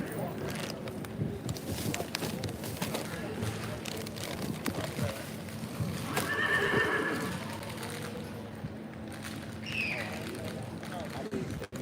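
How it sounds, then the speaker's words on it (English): Horse mules running in a state fair mule show ring, a steady rumble of hooves under a busy crowd and announcer talk, with one clear whinny rising mid-way and a fainter neigh near the end. "And now we're moving into the horse mules, and they go pretty fast."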